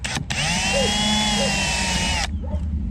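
A power drill whirs steadily for about two seconds, boring a stop hole at the end of a crack in a plastic kayak, starting and stopping abruptly, close and fairly loud.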